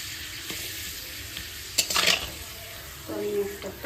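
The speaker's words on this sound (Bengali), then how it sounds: "তো আমি একটাকে সবগুলোই ভেজে নিই এবার একে একে।" Papad (lentil wafers) frying in hot oil, with soft sizzling and a few brief stirring and utensil clinks, a louder burst of crackle midway, close and fairly quiet.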